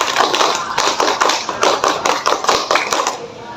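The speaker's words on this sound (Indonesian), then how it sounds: "Satu kali tepuk pramuka." A junior high school class in a volleyball PE lesson claps out the Indonesian scout clap once, a quick patterned run of sharp, crisp group claps in tight rhythmic bursts, close and loud with no talking.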